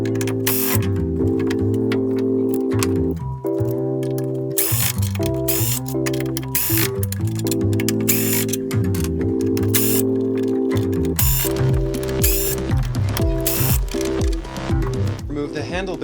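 A screwdriver or ratchet turns out screws from the handle base of a DeWalt DW704/DW705 miter saw, repeated close mechanical clicking and ratcheting under a steady talking voice.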